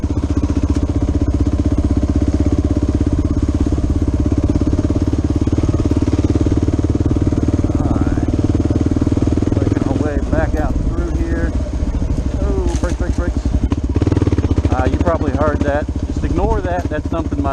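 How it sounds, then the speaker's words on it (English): A loud, steady big-bore single-cylinder Kawasaki KLR 650 motorcycle engine runs throughout in a national forest, low and chugging, with someone talking over it in the second half. "Any of your big bore thumpers, they'll pretty much tractor their way up just about anything"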